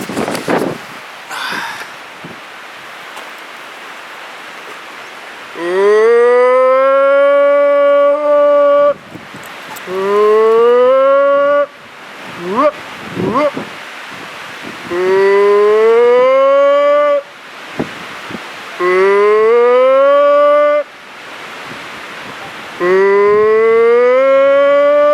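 A person imitates a Bigfoot call by a windy lake, letting out long, loud, rising howls in a series of separate calls with short pauses between them, wind rushing faintly underneath.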